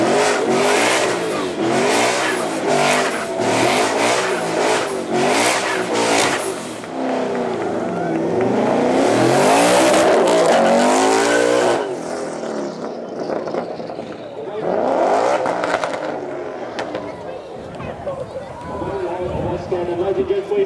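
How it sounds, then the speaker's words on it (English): A twin-turbo Ford Mustang with the boost turned up revs hard at a supercar weekend show, its engine rising and falling in repeated loud blips before a sustained roaring burnout, with an announcer talking over the noise. "Let's see if we're going to have another burnout from our owner."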